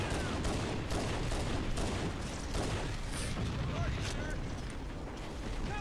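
A vehicle turret fires in Halo: Combat Evolved, producing a loud, dense, continuous stream of gunfire and mechanical clatter that runs throughout, with voices talking over it.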